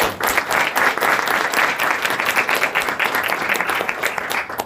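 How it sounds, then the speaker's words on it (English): A school board meeting audience breaks into steady, dense applause that holds strongly for several seconds, many hands clapping together with no talk over it. "Give her a round of applause."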